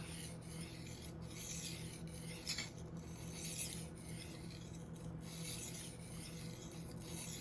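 A Wusthof kitchen knife is drawn across a 3000 grit whetstone with steady, soft scraping strokes, a continuous quiet rasp that swells gently with each pass and carries no talk.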